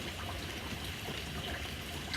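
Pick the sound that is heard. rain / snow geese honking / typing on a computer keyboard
rain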